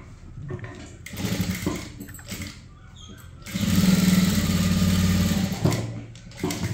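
A sewing machine stitches the lining of an aari-work blouse, a steady close mechanical whir that builds after a few seconds of quieter handling noises, runs for about two seconds, then eases off.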